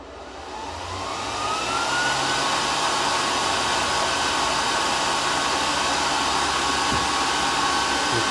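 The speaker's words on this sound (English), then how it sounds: "I'm going to now turn on the main fan with this button here." Main cooling fan of a Kong Lil' Foot PCP air compressor spinning up, a steady loud whooshing hum that rises over the first two seconds and then holds even, with no talking.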